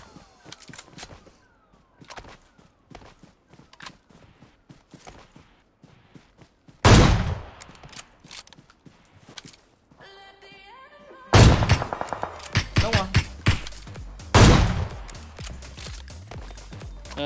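PUBG Mobile gunfire arrives as sharp, loud cracks and bursts, first sparse and distant-sounding amid footsteps and clicks, then three heavy close volleys with rapid repeated shots.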